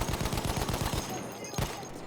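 Anti-aircraft gun fire in an online video game, a rapid rhythmic burst of heavy thumping shots that stops after about a second, followed by one more loud blast over a dense noisy battle bed.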